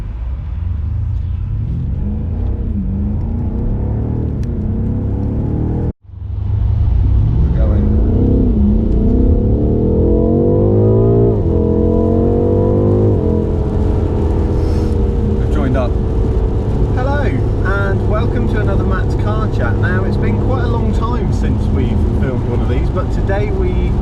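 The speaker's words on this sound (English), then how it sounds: "you will see today we are in a BMW M8" A BMW M8 Competition Gran Coupe engine revs loudly, rising through the gears with a steady climbing drone after a brief cutout, then settling into a sustained roar with faint talk in the cabin.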